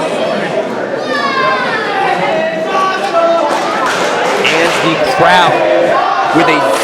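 A wrestling crowd at an independent show chants in unison over steady crowd noise, rhythmic voices rising and falling with scattered shouts, fairly loud and close.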